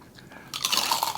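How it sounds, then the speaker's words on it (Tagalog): Crisp crunching bites into crispy roasted pork skin from a lechon head, a burst of crackling crunches starting abruptly after a quiet moment, close and loud. "Balat muna ang makagat natin."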